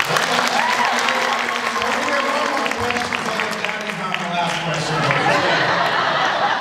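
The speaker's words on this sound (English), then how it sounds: "we're going to get another round of applause for Joonas." A crowd applauds steadily throughout, a dense wash of clapping with a few chuckles mixed in.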